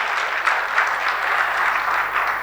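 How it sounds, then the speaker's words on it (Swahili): An audience claps warmly after a speaker's talk on marriage at an Islamic gathering, with a dense, sustained patter of hands that swells and eases in soft waves, loud and close, with no speech. "Naomba tumpigie makofi mengi sana."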